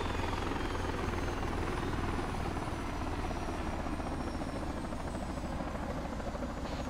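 A military helicopter idles while troops board in the ARMA 3 game, a loud, constant rotor and engine drone that holds steady throughout.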